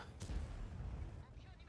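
A single deep tank cannon boom from the Object 704 in World of Tanks goes off, then a low rumbling tail rolls on and fades over the next second.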